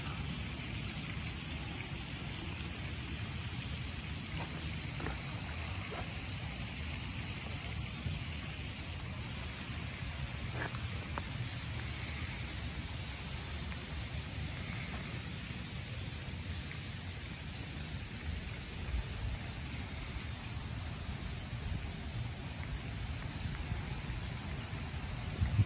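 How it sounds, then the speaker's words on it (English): Summer rain falls in a Kansas City park, a faint, steady hiss of rainfall with a few soft drip ticks and distant low rumbling throughout. "things that help us really appreciate the summer rain"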